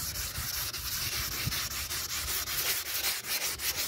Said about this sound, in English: You need coarse sandpaper. Don't get smooth sandpaper.